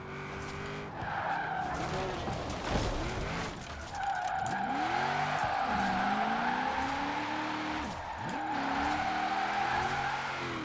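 In Forza Horizon 4, a car drifts with sustained tire skidding and squeal over an engine that rises and falls in pitch, with several gear-change dips and a brief scrape, steady and fairly close, with no talking.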